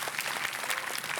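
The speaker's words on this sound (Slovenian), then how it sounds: "En aplavz." A studio audience at a Slovenian school quiz show claps for the winning team. The applause is brief, dense and close, a steady patter of many hands.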